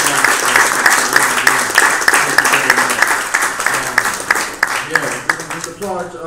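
An audience applauds at a community event held at Urban Blend, a dense, sustained wash of clapping filling the room without letup, with a few voices mixed in beneath the claps.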